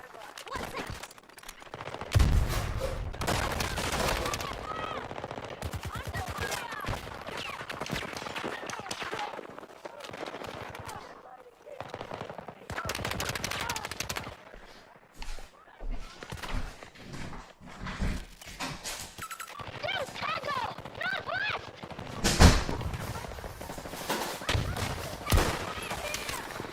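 Battlefield 2042 gunfire in bursts and single shots, loud and close, mixed with footstep-like clatter and other game effects across a long stretch, with a player talking over parts of it.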